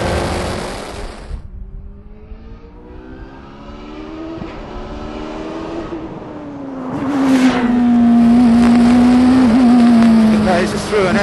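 A Caparo T1 race car on road test pushes through an S-bend, its engine note rising and falling with gear changes before climbing to a loud, sustained high-revving whine up close; a voice speaks over it early on.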